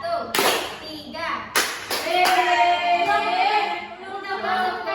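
A group of children clap hands in a counted rhythm game led by a teacher: a few sharp, loud claps land in short bursts while an adult voice talks over and between them.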